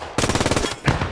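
Loud, close burst of German machine gun fire in the World War II shooter Post Scriptum: about ten rapid rounds in an even rhythm, a short pause, then another few shots, with no talking.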